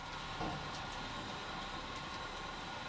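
Model train running on a model railroad layout: a faint, steady rolling rumble with light clicking over about three seconds, no voices.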